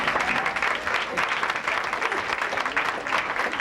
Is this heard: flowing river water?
no